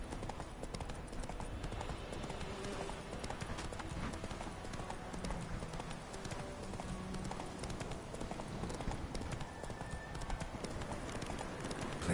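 Hooves of the horse Roach running in The Witcher 3 beat out a continuous, fairly quiet clip-clop, with little else heard over the galloping rhythm.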